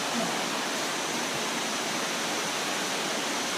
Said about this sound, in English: The water are coming into the pool from those pumps inside the pool.